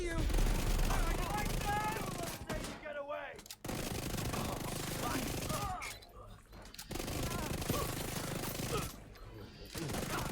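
SMG gunfire in The Division 2 during close-range combat: rapid bursts of automatic fire in several stretches, loud and close, separated by brief pauses, with game effects and a voice mixed in.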